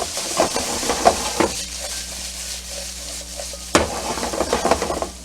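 Smoked sausage frying and browning in a pan, with a steady sizzle under repeated scraping and clanking as it is stirred, plus one sharper utensil knock near the end.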